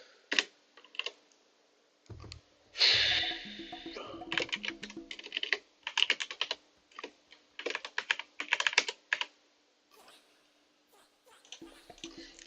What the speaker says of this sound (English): I have a bit of difficulty typing on the elevated keys.